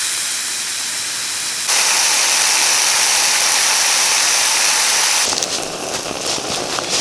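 A Dpower backpacking stove burns with a loud, steady roaring hiss whose level shifts abruptly as the flame is adjusted, then drops to a rougher, fluttering burn at the end.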